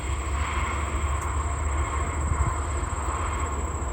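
A freight train rolls past near a lakeside path, a steady low rumble of wheels and cars that holds evenly throughout, with no voices.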